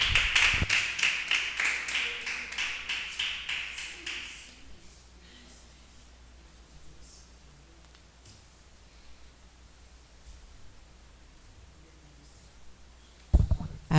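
A church congregation claps in praise, a rhythmic run of about a dozen loud unison claps that fades after four seconds into quiet room noise, with a sharp burst near the end.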